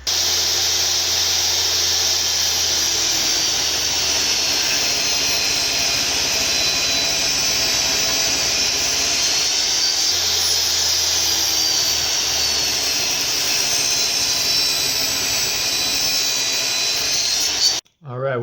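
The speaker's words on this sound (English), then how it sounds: "I'm going to make a pass of the blade along here and on the other side" A saw blade makes a pass through a piece of wood in a shop, a loud, steady broadband whine that holds for about eighteen seconds and then cuts off abruptly.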